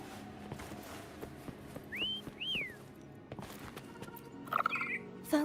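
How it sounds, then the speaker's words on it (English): In the game Wuthering Waves, a character whistles to call a companion: two clear, short whistled notes, one rising and one rising then falling, sound in quick succession over soft game ambience and music. "Try whistling."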